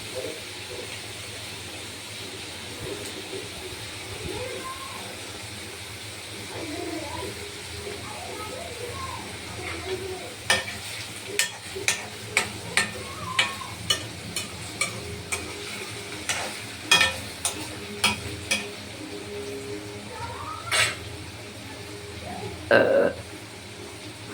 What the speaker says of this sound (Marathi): थोडा याला फ्राय होऊ द्या.